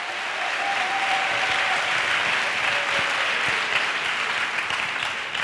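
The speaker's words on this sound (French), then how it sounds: "Let's clap for Jesus Christ." An audience claps together in sustained, dense applause at a church gathering, steady and fairly loud for over five seconds with no clear voices.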